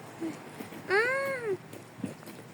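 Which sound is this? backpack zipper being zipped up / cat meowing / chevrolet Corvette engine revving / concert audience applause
cat meowing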